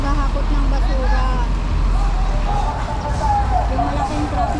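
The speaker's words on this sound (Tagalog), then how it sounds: "ito po yung maghahakot ng basura" A garbage collection truck rumbles past on a busy Recto street in Manila, its low engine drone blending with steady traffic noise while people chatter nearby.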